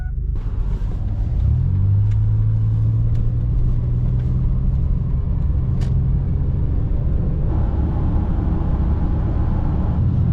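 Steady, loud road rumble and engine drone from a car cruising at about 60 mph on an empty interstate, continuous with a constant tone throughout and no talking.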